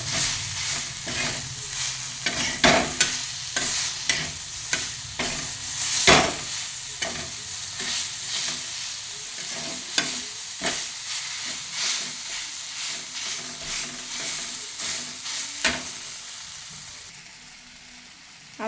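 Peanut chutney gets mixed into roasted eggplant bharit with a spoon, producing a run of rhythmic scraping and tapping strokes against the pan over a low sizzle, fading near the end.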